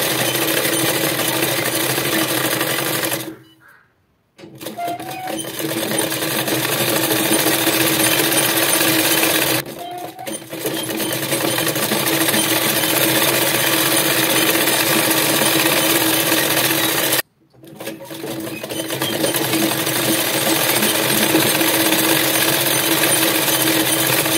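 A sewing machine runs steadily while stitching the waistband of a Patiala salwar, a loud continuous mechanical whirr broken by three short pauses, with no talking.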